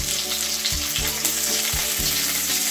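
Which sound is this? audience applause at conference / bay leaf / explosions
bay leaf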